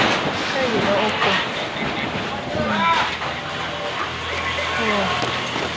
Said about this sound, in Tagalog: Hangin kaayo guys.